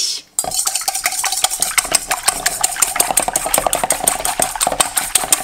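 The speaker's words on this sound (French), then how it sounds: "j'ai mis ces 3 œufs dans le saladier, je vais les fouetter" Three eggs are whisked briskly in a mixing bowl, with rapid rhythmic clicking and scraping of the whisk against the bowl, loud and close, after a short quiet start.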